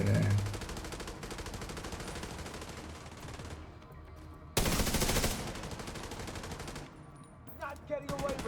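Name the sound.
RPK machine gun firing in a video game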